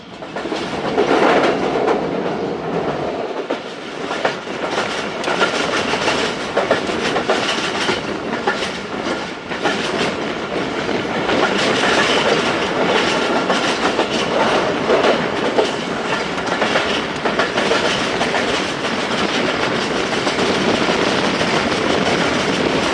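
The Khyber Mail passenger train rolls along the rails near the big Lahore yard and locomotive shed, with a loud, continuous rumble, rhythmic clickety-clack of the wheels and occasional squeals.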